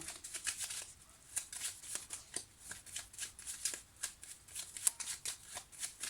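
Tarot cards are shuffled by hand for a reading, giving soft, continuous riffling and slapping at close range. The sound rises and falls in quick bursts throughout, with no speech.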